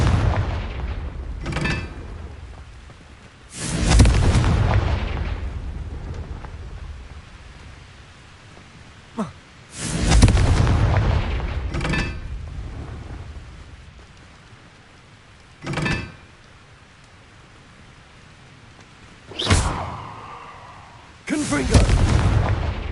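Repeated blasting-spell explosions in the video game Hogwarts Legacy, loud booming bursts arriving every few seconds with quieter gaps between, and a voice speaking at times.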